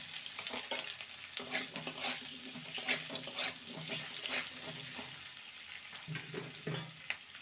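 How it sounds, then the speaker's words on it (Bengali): Potatoes frying in oil in a pan for a spicy pumpkin and potato dish, a steady close sizzle with occasional stirring scrapes and bursts of crackle, no talking. "প্রথমে আলু দিয়ে দেবো। আলুকে 2 মিনিট ভাজার পর কুমড়োকে দেব।"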